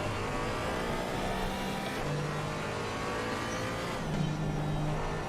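Porsche race car in Assetto Corsa Competizione, a steady loud engine drone held throughout with slight pitch shifts as it accelerates, no voices over it.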